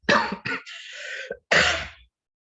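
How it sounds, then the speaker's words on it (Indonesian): A single cough with a short rasping throat sound, followed by a second harsh burst, close to the listener. "Mohon maaf batuk"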